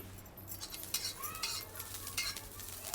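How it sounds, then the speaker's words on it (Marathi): Green chillies roast in a pan, giving a quiet, soft sizzle with light scraping and stirring clinks close by, and no voices. "आपण हिरवी मिरची घेतलेली आहे भाजीसाठी मिरची भाजून घेऊ"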